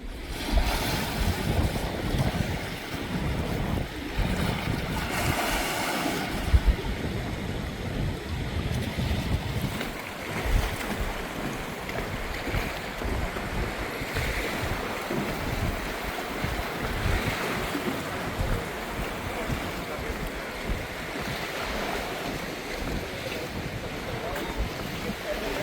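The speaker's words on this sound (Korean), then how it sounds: "동굴 안으로 물이 들어갔다 나오는 소리가 아주 시원했습니다." Sea water surging in and out of a cave beneath rocky cliffs on the east coast, a steady rushing wash of waves with gusty wind noise across the microphone throughout.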